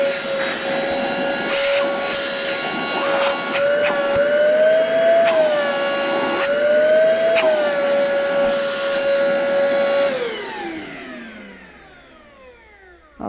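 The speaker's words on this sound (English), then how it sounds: "the way this works as a blower or inflator just depends on which port you plug into" A Craftsman 3-in-1 blower, inflator and vacuum runs with a steady, loud motor whine that rises slightly in pitch a couple of times, then winds down as the motor is switched off near the end.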